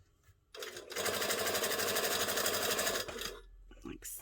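A Brother MC9900 sewing machine stitches two layers of fabric for an embroidered Easter basket, running loud and steady for about two and a half seconds before slowing and stopping.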